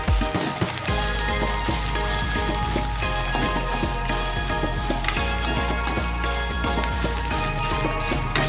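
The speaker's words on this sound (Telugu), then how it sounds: "ఇలా చక్కగా వేగిన దాంట్లో మనం 2 మిరపకాయలు వేయించేసుకోవాలి" Two red chillies fry in hot oil with a seasoning of tempered spices for a sorrel leaf chutney, giving a loud, steady crackling sizzle with small pops throughout and no talking.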